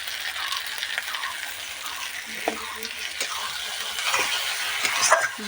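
Spices and dried red chili paste sizzle and fry in a pan while being stirred, a steady crackling hiss with scraping stir strokes, close and continuous.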